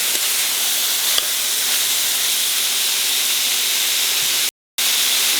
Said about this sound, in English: It has to be fried very well, okay? It's on the high heat.